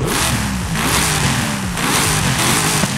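V8-swapped car in Forza Horizon 5 revving hard and loud, its engine note repeatedly climbing and dropping in pitch through several throttle blips, with no talking over it.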